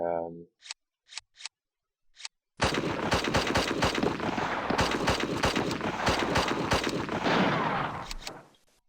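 Gunfire from the World War II strategy game Steel Panthers World War 2 in a Philippines firefight: a few isolated sharp shots, then a sustained loud barrage of dense overlapping bursts and volleys lasting several seconds before fading out.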